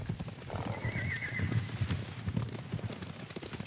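Hooves pound rapidly in a galloping rhythm in the video game Ghost of Tsushima while a horse whinnies sharply early on, the thudding continuing loud and close throughout.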